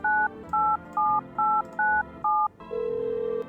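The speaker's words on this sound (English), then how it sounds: "Should we call the guy? The phone guy." A telephone being dialed in a video game, six short evenly spaced touch-tone beeps, then a sustained ringback tone, loud and clear with no talk.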